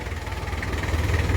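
An International 276 tractor engine, made in England, runs close by with a steady low pulsing throb and a faint mechanical knock, alone and unbroken through the short stretch.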